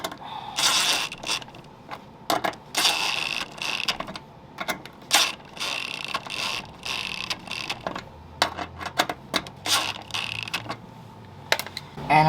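Bolts being tightened on the grill shutter of a Toyota Corolla, giving close, repeated mechanical clicking and creaking in uneven bursts across the whole stretch.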